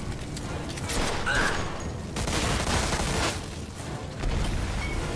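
Gunfire in the crime game Mafia II: Definitive Edition, a dense chaotic fusillade of shots and impacts in waves over a rough, noisy background, moderately loud.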